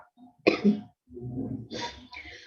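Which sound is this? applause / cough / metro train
cough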